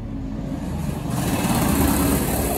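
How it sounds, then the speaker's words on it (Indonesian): A car passes along a busy provincial road, a loud, steady engine and tyre rumble that swells slightly partway through, with no talking. "Tuh ada mobil lagi."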